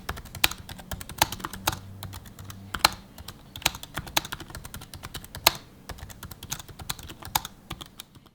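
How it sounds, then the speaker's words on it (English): Typing on the keyboard of an Early 2015 MacBook Pro 13, a steady stream of crisp, close key clicks in an irregular fast rhythm with no talking. "The keys have a good amount of travel and it's just overall a fun keyboard to type on."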